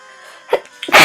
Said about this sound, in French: Ouh, excusez-moi, j'éternue.